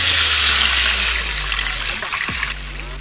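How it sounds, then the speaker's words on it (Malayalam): Water poured from a vessel into a pot for cooking rice for beef biryani, a close, loud gushing pour over a low hum that tapers toward the end. "ഇനി നമ്മൾ 1 കിലോ അരിക്ക് വേണ്ടി വെള്ളം ഒഴിക്കുകയാണ്."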